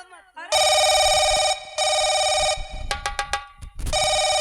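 A telephone rings loudly in repeated electronic bursts with short gaps between them, followed by a brief run of quick chirps. Voices talk faintly underneath.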